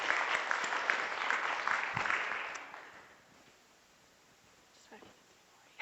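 Applause from an audience welcoming a speaker at a cancer and the law expert talk, a steady clapping that swells then fades out over about three seconds, leaving quiet room tone.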